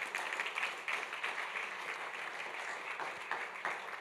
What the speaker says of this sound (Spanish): Le da un aplauso a estas alturas al Señor.